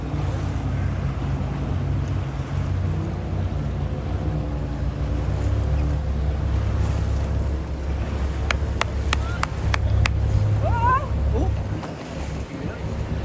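Waves washing against a rowing boat during a canoe marathon, a continuous churning roar mixed with wind buffeting the microphone, with a few brief sharp clicks near the end; no talking.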